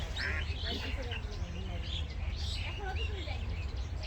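Ducks quacking repeatedly in quick, scattered bursts at moderate distance, mixed with faint bird chirps and people talking nearby.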